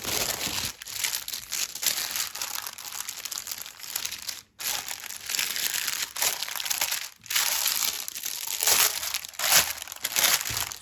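Plastic packaging of a cross-stitch supplies kit crinkles and crackles close up in busy, uneven bursts, with two brief pauses, no voices present.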